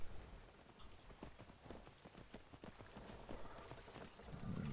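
Hooves of a horse in Skyrim clop along a road toward the village of Riverwood, a quick, regular patter heard near and moderately loud against soft background ambience, with no one speaking.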